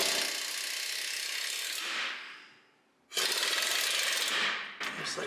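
A wrench working a sway bar nut on a Ford F-series front strut assembly, loud rapid ratcheting clicks in two bursts separated by a short pause, close up.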